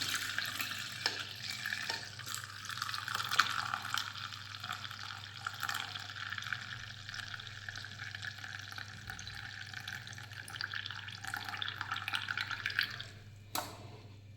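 Juice poured through a kitchen strainer makes a steady, fairly faint trickling and dripping hiss that runs unbroken for most of the stretch, then stops abruptly near the end. No voices are heard.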